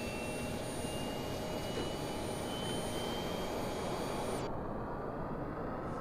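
An AV-8B Harrier jet engine spools up during startup in the DCS flight simulator, a loud, steady roar with a high whine that shifts pitch partway through, heard close with no talking.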